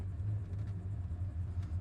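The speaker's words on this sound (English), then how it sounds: "Car is idling really nice." A 1979 Chevrolet Corvette engine idling at a dead stop at a red light, a quiet, smooth low rumble with a steady throb and no backfires or sputters.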